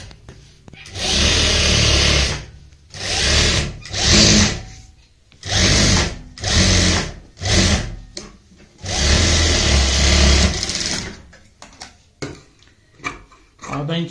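A sewing machine stitching printed fabric for a lattice-style neck runs in repeated loud bursts of whirring, several short runs and longer stretches separated by pauses, with a voice speaking between them.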